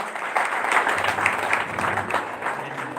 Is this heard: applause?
yes